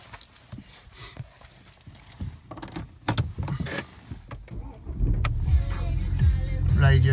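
A 2010 BMW 1 Series 116d Sport diesel starts from inside the cabin: a few clicks and mechanical knocks lead up to the engine catching and settling into a steady, close idle rumble for the last couple of seconds.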